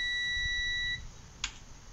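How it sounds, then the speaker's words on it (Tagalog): An electronic buzzer tone sounds steadily for about a second from a Kevler powered speaker with a no-power fault, then cuts off, followed by a brief click and low background hum. "Meron buzzer."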